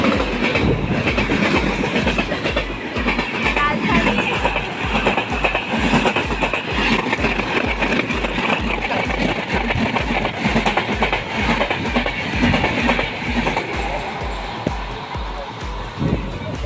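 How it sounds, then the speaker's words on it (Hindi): The Rajdhani Express passes close by with a steady, loud rumble and a rapid rhythmic clickety-clack of wheels over rail joints that continues throughout. "फिर एक और आ गई और वो थी राजधानी एक्सप्रेस।"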